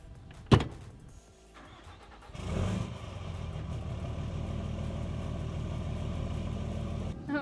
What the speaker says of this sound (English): We're driving out of the neighborhood.